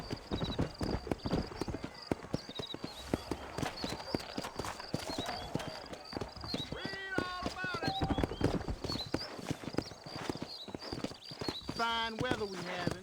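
Horse hooves clip-clop steadily across a Red Dead Redemption game scene in New Ulster, several horses trotting at a brisk rhythm under frequent spoken dialogue and a brief whinny.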